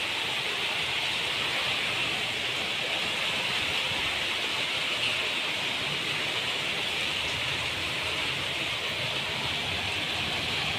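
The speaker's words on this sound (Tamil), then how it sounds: "நல்ல மழை வந்துருச்சுங்க." Heavy rain falling at a home in Erode, a continuous, even wash of close hiss and patter that holds steady throughout, with no talking.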